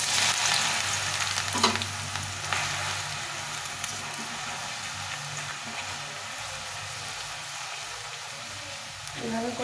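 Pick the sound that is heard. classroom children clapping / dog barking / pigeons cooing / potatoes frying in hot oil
potatoes frying in hot oil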